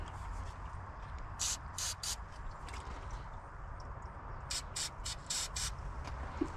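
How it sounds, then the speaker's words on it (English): Anti-rust aerosol sprayed onto the cables of a Polaris Slingshot comes in several short hissing bursts, two groups of quick blasts close by over a steady background hum. "probably should spray those cables too."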